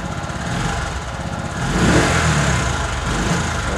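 A TVS XL 100 iTouch BS6 moped with a misfiring engine runs just after starting, a close, loud engine that idles and rises briefly around the middle before settling back.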